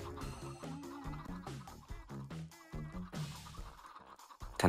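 Chickens cluck in Minecraft, a run of short bursty game clucks at moderate volume with no talk.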